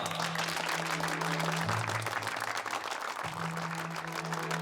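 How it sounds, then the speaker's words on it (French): Audience gives a peacock a sustained, even round of applause, dense and continuous, with a low steady hum underneath. "On l'applaudit bien fort et on lui dit au revoir."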